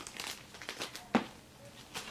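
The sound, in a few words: opening packaged chocolates, wrapper crinkling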